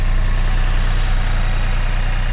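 Tractor engine idling up close, a loud steady low rumble with an even, unbroken drone throughout and no voices.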